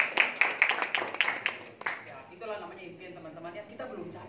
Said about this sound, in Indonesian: Oke, beri aplaus dulu dong.